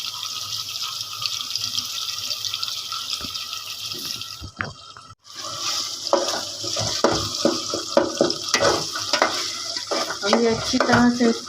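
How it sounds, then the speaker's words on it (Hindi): Minced keema sizzles and fries in a pan, stirred with irregular scraping strokes; after a brief quiet break the frying resumes louder and busier, close and alone without talk. "ये अच्छी तरह से भुनाई हो जाए कीमे की"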